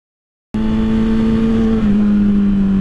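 A motorcycle engine suddenly roars to life and holds a loud, steady rev during a wheelie attempt, dipping slightly in pitch near the end; close up, no talking.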